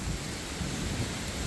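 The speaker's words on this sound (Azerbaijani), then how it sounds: "Ana bu nə fırtınadır." Thunderstorm with heavy rain, a dense continuous hiss of downpour over a deep rolling rumble of thunder, loud and enveloping with no voices.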